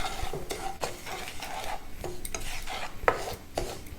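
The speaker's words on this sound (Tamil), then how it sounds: "ஒரு பேனில் கொஞ்சம் நெய் விட்டுட்டு ரவையை நல்லா மணம் வர வரைக்கும் வறுத்துக்கலாம்" Semolina roasting in ghee in a pan, a soft continuous sizzle with repeated scraping and stirring strokes of a utensil against the pan, close and fairly quiet.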